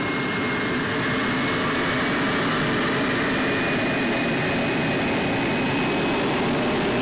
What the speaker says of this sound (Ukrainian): на Т-80 встановлено газотурбінний двигун, він має дуже специфічний звук роботи